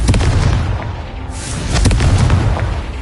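Spell explosions in Hogwarts Legacy, loud booming bursts from the Confringo fire spell rolling one into another over dense game noise, with a heavy low rumble throughout.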